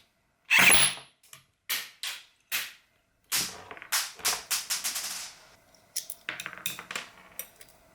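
An AEP airsoft gun fires 0.36 gram BBs in a series of sharp, loud clacking shots, spaced irregularly, some single and some in quick bunches, with short silent gaps between them.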